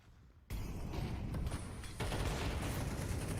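Loud, rapid bursts of gunfire crackle nonstop in a Counter-Strike match between Astralis and Heroic at IEM Katowice 2024, starting abruptly after a brief quiet moment and growing denser partway through.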